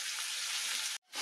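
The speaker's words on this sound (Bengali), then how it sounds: "সবজির মধ্যে ছিল আলু, গাজর, একটু সামান্য পেঁয়াজ আর একটুখানি রসুন। দেখো ভাজা ভাজা হয়ে গেছে।" Pan-fried vegetables of potato, carrot, a little onion and a bit of garlic sizzle in a steady broad hiss, close and constant, breaking off briefly near the end before resuming.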